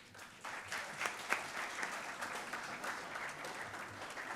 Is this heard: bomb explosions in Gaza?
no